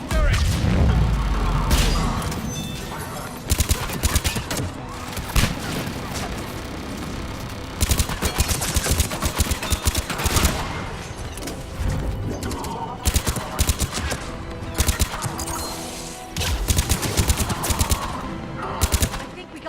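Cerberus turrets fire in Mass Effect 3, loud sustained bursts of automatic gunfire repeating in waves with brief pauses between volleys, heavy impacts layered underneath.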